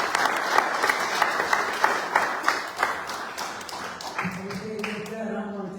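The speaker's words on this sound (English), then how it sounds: "I have to give them a round of applause." Audience at a special board meeting gives a round of applause, a steady patter of clapping with distinct hand claps that fades as a voice starts speaking near the end.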